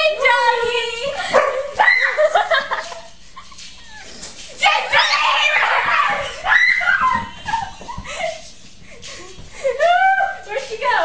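A dog barks and yips in loud, irregular bursts during a chase, mixed with excited human shouting and screams throughout.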